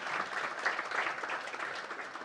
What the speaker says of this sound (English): we should applaud these 4 youngsters